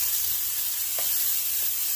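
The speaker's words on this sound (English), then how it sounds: "I'm so glad you can hear the sizzling sound." Garlic and onions sizzle steadily in a pan while cooking for chicken rice soup, a constant bright frying hiss close by with no voices.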